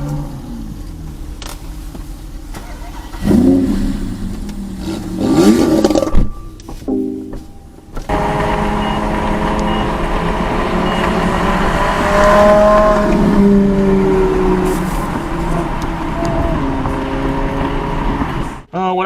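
Cars rumble and rev at a car event in Detroit, engines roaring loudly up close with a sustained drone through most of the stretch, after a few brief revving bursts early on.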